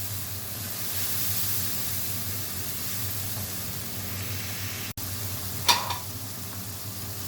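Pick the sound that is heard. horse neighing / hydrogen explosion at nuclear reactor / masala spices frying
masala spices frying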